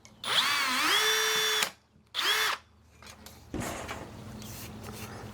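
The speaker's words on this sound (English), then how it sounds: "we'll make the hole for the A-dowel clamp bigger because we want it more at the size of the A-dowel clamp hole there for a bolt to go through" A power drill enlarges a bolt hole in a clamp while wiring is being reworked on a Sonex aircraft. The close, loud motor whine runs in two bursts, then comes a brief clatter and a lower steady hum.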